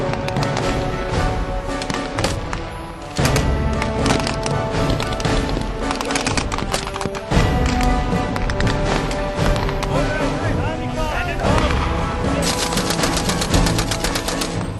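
Blank-firing rifles and machine guns crackle at a WWII battle reenactment, with dense, loud bursts and rapid volleys that overlap almost continuously and have only brief gaps.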